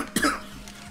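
A single short, close cough, sharp and dry, with no talking around it.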